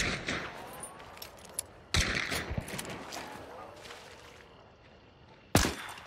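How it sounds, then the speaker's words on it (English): Video-game gunfire aimed at the player, scattered sharp shots and short volleys at varying distance with two loud close cracks, while a person talks over them. "They're still shooting at me."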